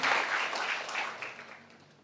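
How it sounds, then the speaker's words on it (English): Steady applause from an audience at a university business faculty event, a broad wash of clapping that starts loud and gradually fades over a couple of seconds. "Applause for Management Study Program."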